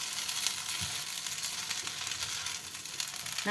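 Egg masala being stirred into egg noodles in a frying pan, a steady close sizzle with scattered soft scraping and clinks of the utensil against the pan, no voices.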